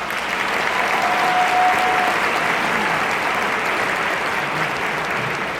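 A large audience at a student assembly or ceremony breaks into sustained applause, a dense, steady wash of clapping hands that holds at full loudness throughout, with a faint whistle rising briefly from the crowd early on.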